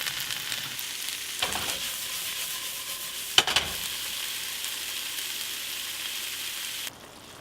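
Tomatoes and garlic hit a hot pan of carrots, onions and peppers, raising a steady close sizzle, with two brief stirring scrapes partway through and a sudden drop in level at the end.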